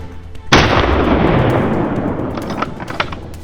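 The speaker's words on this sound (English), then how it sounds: "A precise shot rang out, bringing an end to the intense chase and the boar's determined struggle." A single loud gunshot during a wild boar hunt in hilly country, a sharp blast followed by a long rolling echo that decays over several seconds, with faint scattered outdoor sounds behind it.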